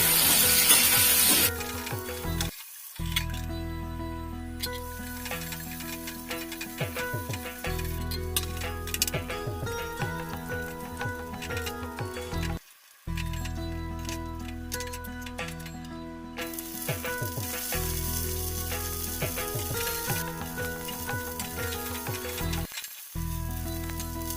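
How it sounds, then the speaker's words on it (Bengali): Carrots and other vegetables frying in a pan for a chara fish jhol, a sizzle running under steady background music with brief dropouts and occasional utensil clinks. "গাজরকে আমি একসাথে ভেজে নিচ্ছি"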